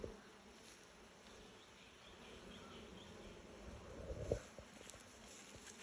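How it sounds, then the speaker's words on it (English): Honeybees buzzing on a frame lifted from a garden hive, a soft continuous drone close by with a brief louder swell near the end. "I can shake these bees off if you'd like"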